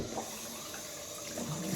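Hot water runs from a tap during a safety razor wet shave, a steady close splashing stream that continues without pause throughout.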